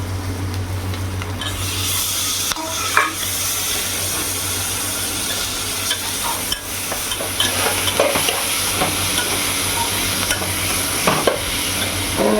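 Tomatoes frying in a pan, a steady close sizzle with occasional stirring scrapes and clacks over a constant low hum, no talking.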